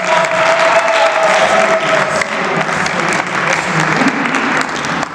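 A crowd applauds loudly and steadily at an official political party ceremony in Windhoek for the UDPS, a dense, sustained clapping wash with faint voices mixed in throughout.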